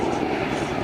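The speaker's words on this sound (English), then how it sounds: "It's actually the largest helicopter in the British forces" A brief, steady rumbling drone of a Chinook helicopter flying at an airshow, broad and loud with no talking.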